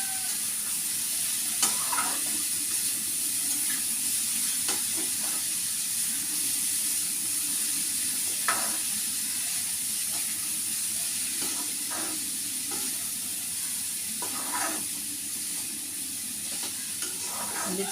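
Pickle powder and chopped ingredients frying in a pan give off a steady hiss and sizzle, with occasional soft scrapes from stirring, close and constant throughout.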